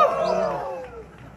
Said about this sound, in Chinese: 掌声加欢呼来一下